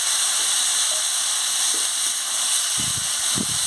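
Papaya, soybean and potato sizzle in a spiced masala with a loud, continuous frying hiss close by, plus a few soft low thumps and stirring knocks toward the end.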